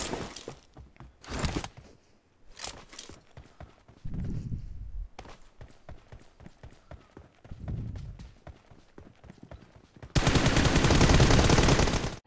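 Gunfire in PUBG, scattered sharp shots and short rapid bursts at varying distance, separated by quieter gaps, ending in a loud sustained burst of noise.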